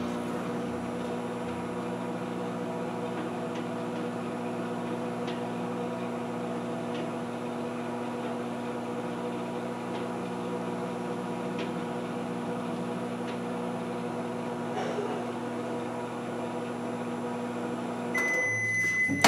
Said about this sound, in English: we're gonna put the butter in the microwave. We're gonna microwave it for like